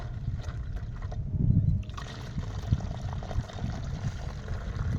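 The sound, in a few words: natural dye liquid poured into a jug through a funnel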